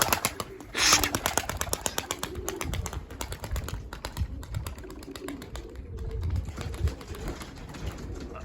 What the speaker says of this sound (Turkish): Kuşumuzu kaldırdık bakınız. Yatan kuş uçuşundan hemen anlarsınız zaten.